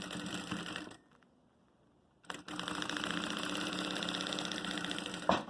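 A sewing machine runs steadily while stitching a makeup case, pauses briefly into near silence, then resumes its rapid, even mechanical chatter up close.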